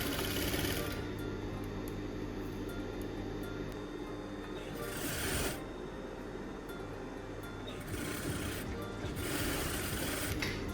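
Sewing machine stitching the corner of a shirt, a steady mechanical whir with short pauses and restarts as the fabric is pivoted, fairly quiet and close.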